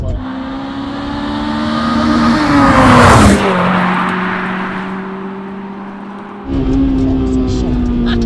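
A Honda Civic Type R EK9 engine revs hard while driving, its loud rising whine climbing through the revs, dropping sharply at a gear change, then pulling up strongly again in the next gear.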